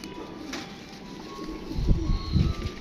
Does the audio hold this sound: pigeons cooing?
yes